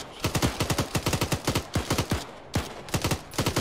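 Gunfire in the video game ARMA during a military co-op mission: loud, close rapid bursts of automatic fire in quick rhythmic volleys with short pauses, and no voices.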